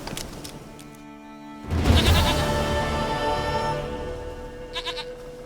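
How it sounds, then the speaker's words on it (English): A goat in The Witcher 3 lets out a loud, wavering bleat after a quiet stretch with music, then a few short fainter bleats near the end. "Goat of mine, dearest, sweetest goat."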